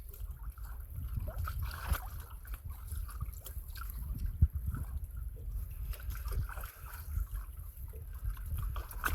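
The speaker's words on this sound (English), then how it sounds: "There's waves, little waves breaking in the river mouth." Small waves lap and break softly at a river mouth at low tide, heard from a canoe as a low, continuous wash with faint trickles and splashes and no one speaking.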